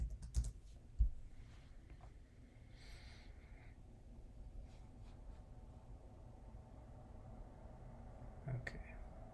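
Quiet keystrokes tapped on a computer keyboard as a GPT-4 prompt is typed, a few sharper clicks near the start and end over a low steady background hum.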